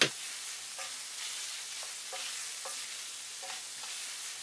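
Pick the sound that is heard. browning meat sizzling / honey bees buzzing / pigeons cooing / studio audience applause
browning meat sizzling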